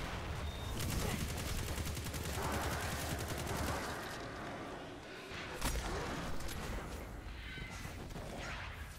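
Heavy gunfire in the PC game Destiny 2: loud, dense bursts of automatic shots and blasts run almost without pause, briefly easing near the middle before surging again.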